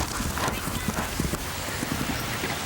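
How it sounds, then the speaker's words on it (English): Horse hooves drumming on turf during a show jumping course at an outdoor equestrian competition, a rapid irregular clip-clop heard at a distance under crowd noise and commentary. "And you can see here now that the horse is starting to pull with Jennifer"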